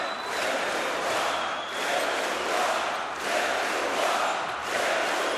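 A Lithuanian crowd at a EuroBasket quarter-final basketball game against Greece chants "Lietuva" in a loud, sustained, rhythmic swell filling the arena.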